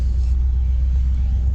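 A 1971 Chevy engine idles steadily, a low, even rumble that stays constant and close throughout with no talk.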